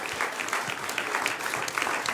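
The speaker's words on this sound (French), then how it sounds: "donnez-vous une bonne main d'applaudissement" A crowd at a televised talent show applauds steadily, a dense wash of clapping that holds throughout without pause.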